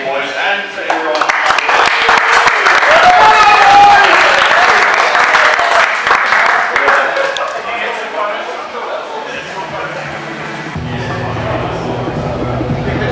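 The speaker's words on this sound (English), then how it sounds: "One more round of applause for the boys and for everyone." A crowd at an RC drift competition claps and cheers loudly for several seconds, then the applause thins into a quieter, rumbling background with voices talking.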